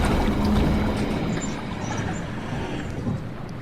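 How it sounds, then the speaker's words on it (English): Water gushes and drains as a flooded room is flushed out in the underwater game SOMA, a steady rushing, churning wash with low rumble throughout. "we have to flush out the water again before we get inside"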